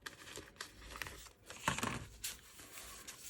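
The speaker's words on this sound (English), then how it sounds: "So I'm going to take this piece first and cut it out." Scissors cut a piece of Liberty print fabric for a scrappy upcycled textile art project, giving close, soft crinkling snips and rustles in irregular bursts, with one louder crunch midway.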